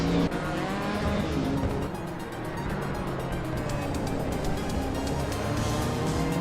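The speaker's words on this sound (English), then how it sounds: "driving a Subaru Legacy RS from 1990 in Group N" A 1990 Subaru Legacy RS rally car in Group N trim runs flat out in a racing video game, its engine droning loud and continuous with a tire squeal, heard alone for several seconds.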